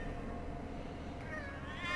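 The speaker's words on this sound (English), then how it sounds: "Because the cats are alarming." Cats meowing in a video game, a quiet ambient hum that gives way to a rising, drawn-out meow near the end, faint and heard without speech.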